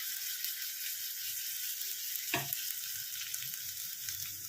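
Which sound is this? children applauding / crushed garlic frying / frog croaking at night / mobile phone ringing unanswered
crushed garlic frying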